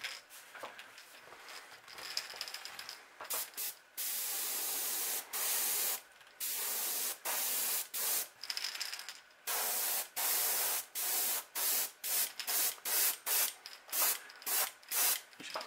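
An airbrush hisses in repeated short bursts painting the belly of a crankbait fishing lure, the sprays coming quicker and more rhythmic toward the end, close up with no talking.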